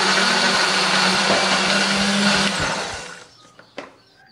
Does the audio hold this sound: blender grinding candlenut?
yes